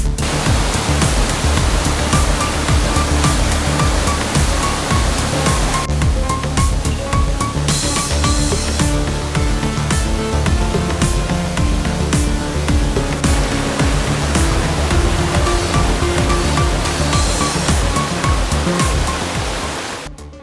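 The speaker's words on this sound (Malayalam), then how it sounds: "കുന്നിൻ മുകളിൽ നിന്ന് ഒഴുകി ഇറങ്ങുന്ന വെള്ളം പിന്നീട് പാലരുവികളായി താഴത്തേക്ക് ഒഴുകും" Anachadikuth waterfall in Idukki, fed by rainwater flowing down a hillside, roars steadily, a thick, unbroken rush of falling water close by, loud and constant with no voices.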